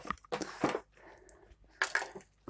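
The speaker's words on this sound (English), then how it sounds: "I need to get in there with a paper towel" A paper towel crinkles and presses against wet watercolor paper in short, close bursts of rustling, separated by quiet pauses, with no voices.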